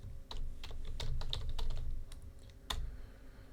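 Rapid keystrokes on a computer keyboard as a folder name is typed on a desktop, arriving in uneven bursts of sharp, close clicks with a short pause before a final strong tap.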